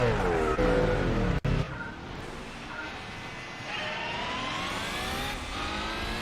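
Two-stroke rally car engine in Gran Turismo 4, a high buzzing rev that sweeps up and down through gear changes, fairly loud and alone with a brief skid-like burst early on.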